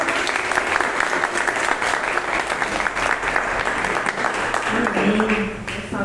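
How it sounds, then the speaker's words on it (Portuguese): A church congregation claps to welcome couples, continuous close applause filling the whole stretch, with voices rising near the end. "Vamos recebê-los com uma salva de palmas."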